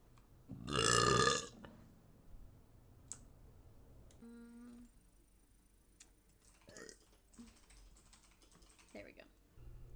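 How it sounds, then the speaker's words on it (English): A woman gives one loud, close burp near the start, followed by quiet computer keyboard typing and clicks. "I burp a lot."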